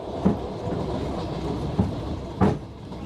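A passenger train rolls along its rails in Ukraine, heard from inside as a continuous low rumble. Periodic louder clunks from the wheels crossing rail joints come through, with no voices over it.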